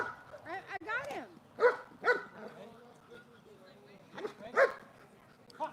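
A dog in bite training barks and yelps in excited bursts over a steady low background noise, with someone talking close by.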